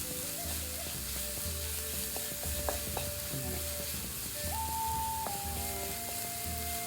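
Tomato and onion sautéing in a pan, a steady close sizzle with a spoon stirring and scraping through it, laid over soft background music with no talking.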